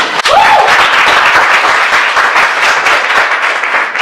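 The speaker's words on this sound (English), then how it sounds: "let's give this girl a warm round of applause for Vanessa Arsenault" A loud, dense burst of warm audience applause for an MC at a motivational event, sustained clapping filling the room from start to finish, with a brief cheer or whistle near the start.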